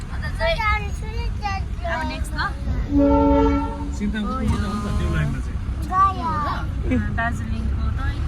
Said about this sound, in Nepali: दार्जिलिङको टोय ट्रेन